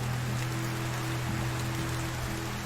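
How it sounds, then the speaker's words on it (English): Steady rain in the medieval survival game Medieval Dynasty, a constant soft hiss of falling water with a low tonal background hum running alongside, no talking. "It's a rainy day."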